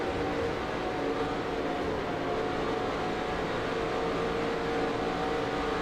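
Race car engine in NR2003 with the 2019 Monster Energy NASCAR Cup Series mod at California, a steady continuous drone with the throttle eased slightly, loud and unbroken with no talk.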